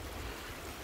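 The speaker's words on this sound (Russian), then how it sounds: "Вот, видите, как движется вода. Прямо бурлит." Turbulent river water bubbling and rushing in a steady broadband roar, heard close by outdoors near ice along the bank.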